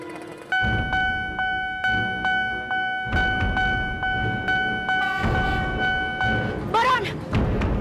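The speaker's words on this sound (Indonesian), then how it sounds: "dari situ ada kereta api mau lewat" A train horn blares in a long sustained tone over the rhythmic clatter of rail cars, with a voice shouting near the end.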